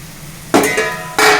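A metal lid lifted off a cooking pot of Telangana-style green pea and tomato curry, giving two bright clattering scrapes about half a second apart, loud and close, with no talk.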